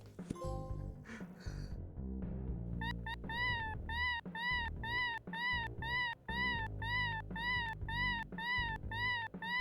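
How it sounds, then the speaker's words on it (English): Repeated cat meows in the video game Plumbers Don't Wear Ties, a steady series of bright, evenly spaced mewing calls over layered game music, with no talking. "How do I get the cat to make its signature sound?"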